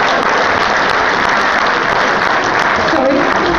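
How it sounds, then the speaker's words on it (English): An audience at a hypnotist show in Woolacombe claps loudly and continuously, a dense, close wash of many hands that holds steady throughout. "Give them both a really big round of applause."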